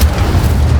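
Incendio fire spell cast in Hogwarts Legacy, a short, loud, deep whooshing burst of flame with a heavy low rumble that lasts under a second.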